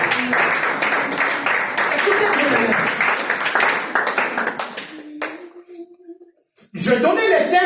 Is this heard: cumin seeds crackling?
no